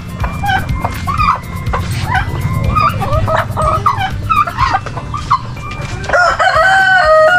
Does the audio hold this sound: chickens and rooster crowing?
yes